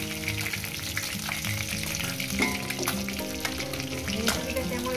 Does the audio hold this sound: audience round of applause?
no